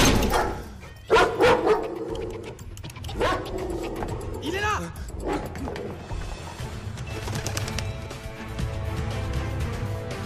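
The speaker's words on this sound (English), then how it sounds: "Inside, chased by dogs!" Dogs bark during a chase in an action film, mixed with shouting voices, birds and a busy soundtrack at a moderate distance.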